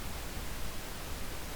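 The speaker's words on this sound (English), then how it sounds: "This is how the vocoded signal sounds like." A 22-channel sine wave vocoder puts out a dense, steady hiss-like synthesized signal with no clear pitch or rhythm. It fills the whole stretch evenly and fairly loud, with no talking.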